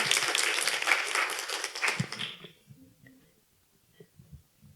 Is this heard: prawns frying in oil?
no